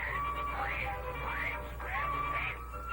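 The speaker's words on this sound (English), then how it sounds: "Why does the saw sound like a cat hacking up a fur ball?" A saw sound effect on a children's story record, sounding like a cat hacking up a fur ball: rising and falling wavering strokes repeated about three times over a steady hiss.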